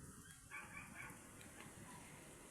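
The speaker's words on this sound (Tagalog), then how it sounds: "Kasi may naririnig akong aso dyan, oh." A dog barks faintly in the distance a few times over a quiet outdoor background.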